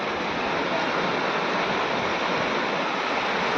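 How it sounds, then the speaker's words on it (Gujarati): Sea waves wash up onto the shore at Gopnath beach, making a steady, loud roar of surf with no breaks and no talking. "જો આમ ઘૂઘવાટા કરે દરિયો"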